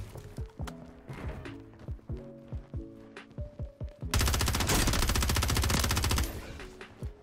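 Gunfire in Call of Duty MW3, first a string of separate sharp gunshots with echoing tails, then a loud, continuous burst of rapid automatic fire for about two seconds before it fades into game ambience.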